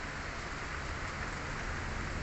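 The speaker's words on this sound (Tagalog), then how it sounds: "Ayan o, ang lakas ng ulan." A dense, steady roar of heavy rain falling continuously on surfaces, loud and close, with no voices, during a road trip in Morong, Bataan.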